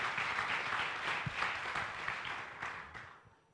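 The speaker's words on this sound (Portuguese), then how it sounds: "Clap for him." A church congregation claps for a man during a service, a dense, steady wash of applause from many hands that thins and fades out at the end.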